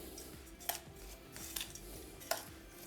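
Panko breadcrumbs being mixed in a bowl, soft scraping and stirring with a few sharp clinks of a utensil against the bowl, quiet and close with no talk.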